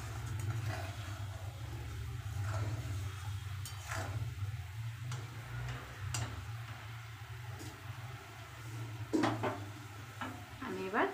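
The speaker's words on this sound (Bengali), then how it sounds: "টকবক করে ঝোল ফুটছে, দেখেছো?" Soybean kofta curry gravy bubbling at a steady boil in a covered pot, a continuous simmering hiss with a low hum from the nearby main road underneath and faint clinks now and then.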